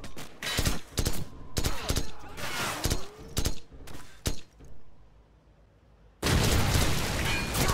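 Combat in Call of Duty 4: Modern Warfare: bursts of rapid gunfire and booming blasts come in close, loud volleys, ease off into a short lull, then a frag grenade goes off in one heavy, sustained explosion.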